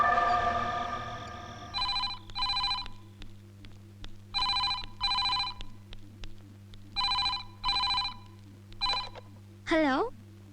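An electronic telephone rings in repeated short double bursts, loud and close in a home interior, with a sustained low hum underneath and brief voices around the rings.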